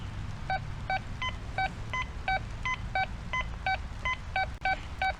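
A Quest X5 metal detector sweeping over a quarter buried beneath a screw gives a rapid series of short electronic beeps, repeating evenly and shifting slightly in pitch, over a low steady background hum.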